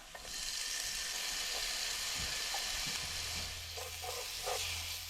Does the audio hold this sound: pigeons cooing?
no